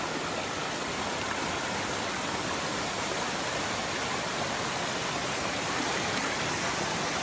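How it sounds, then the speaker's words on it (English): Trailside cascades of a creek in the Great Smoky Mountains make a steady, full rush of falling water, even and unbroken throughout, with no voices. "Lots of trailside cascades from the creek"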